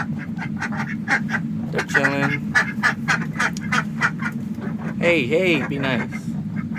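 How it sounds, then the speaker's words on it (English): Pet ducks named Bubbles and Belle quack near the mic in short repeated bursts and a louder run of calls, over a steady low hum from a homemade furnace, with people talking briefly. "Crazy ducks."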